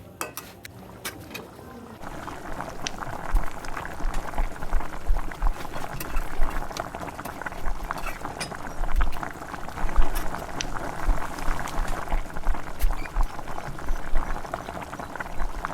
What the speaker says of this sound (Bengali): এবার আমি অল্প একটু জল দিয়ে কষে নিচ্ছি